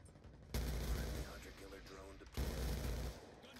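Rapid automatic gunfire from a weapon in the Black Ops 2 video game plays in two loud bursts separated by a short pause, heard close and sharp.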